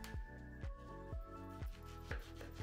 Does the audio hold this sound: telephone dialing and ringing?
no